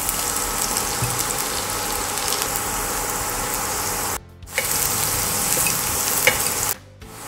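Garlic frying in oil in a pan sizzles and crackles close up in a steady, dense hiss. The sound drops out briefly twice, with no talking.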